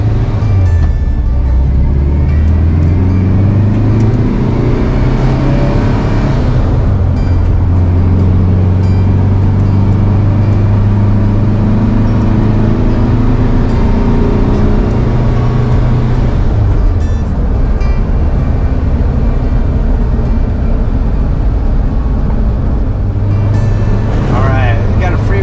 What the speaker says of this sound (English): Fun to get on the freeway at 65 in an old bus.